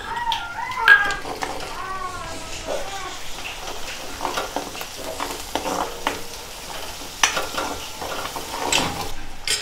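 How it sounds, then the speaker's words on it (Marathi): Crushed garlic hits hot oil with onion in a pan for masala bhindi, sizzling and frying steadily throughout with stirring noises and a few short high-pitched squeaks early on. "त्याचबरोबर आपण आता त्यामध्ये टाकूया थोडा ठेचलेला लसूण"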